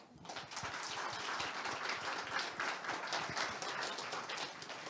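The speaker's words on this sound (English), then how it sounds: "please join me in a round of applause for them" A symposium audience applauds its sponsors, a steady wash of many hands clapping at moderate distance, sustained throughout without talk.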